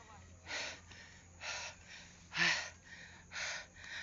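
Heavy panting from a hiker on a mountain trail near the sea, four strong, evenly spaced breaths about a second apart, close and fairly quiet, with no talk.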